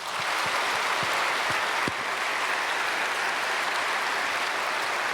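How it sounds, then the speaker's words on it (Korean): A large church congregation applauds at a Wednesday prayer meeting, a broad, steady wash of clapping from many people that holds evenly for several seconds. "그분들 위해서 다시 한번 박수 한번 할까요?"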